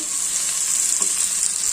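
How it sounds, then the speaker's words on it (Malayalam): Green chillies sauté in a hot pan while anchovy curry is being made, giving a loud, continuous close-up sizzle with no talking. "ഇതിൽ പച്ചമുളക് മാറുന്നവരെ നല്ലതുപോലെ ഒന്ന് വഴറ്റിയെടുക്കാം"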